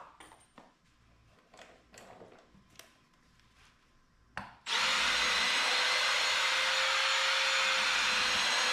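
A power drill drives screws into 2x4 lumber for mini truck wheel cribs: a few quiet taps and clicks at first, then a loud, steady whirring drill run that holds for several seconds.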